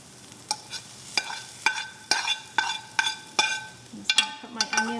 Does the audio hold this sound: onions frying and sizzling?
yes